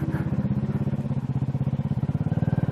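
Loud motorcycle engine running steadily in a canyon, its pulsing low throb repeating in a fast, even rhythm close by for the whole stretch, with no voices over it.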